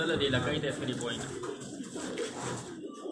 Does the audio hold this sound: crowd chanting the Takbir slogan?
no